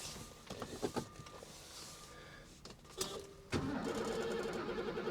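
An old sports car engine cranks and catches after failing to turn over, with faint clicks and whirs before it fires and settles into a steady running rumble, heard fairly quietly.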